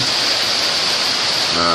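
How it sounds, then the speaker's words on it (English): Heavy stormy rain pours in a dense, loud, continuous roar close by, with a faint humming tone entering near the end. "we needed the rain."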